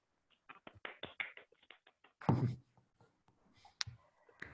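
Scattered claps and taps come in from seminar attendees over a video call: a quick run of sharp, separate hand claps, one louder burst, then a few faint isolated claps against near silence.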